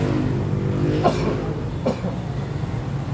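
A person coughing twice, short sharp bursts about a second apart, over a constant rumbling background of vehicle or train noise.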